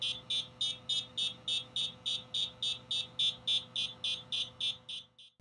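A buzzer on a CrowPi2 Raspberry Pi laptop beeps in a fast, steady series of about eighteen short, even pulses, loud and close, then stops.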